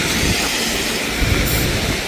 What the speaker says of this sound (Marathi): तुम्ही बघू शकता खूप जोराचा पाऊस चालू आहे